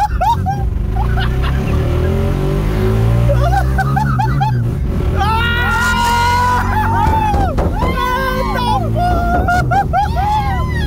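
Ford Fiesta fitted with a Honda Twister motorcycle engine runs and revs steadily close by, a droning engine note under excited shouting and talk from several men.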